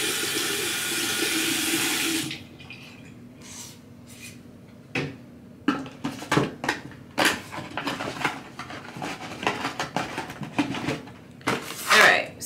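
Tap water runs steadily into a sink for about two seconds, then stops, followed by scattered splashes, rubbing and clunks as a robe is washed by hand, with a voice briefly heard.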